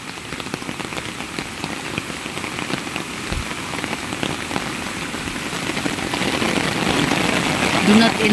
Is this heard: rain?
yes